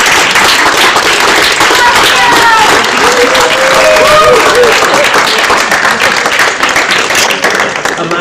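A large audience at a climate-change talk event applauding the speakers, a loud sustained wash of clapping with some crowd murmur and a few brief tonal sounds underneath.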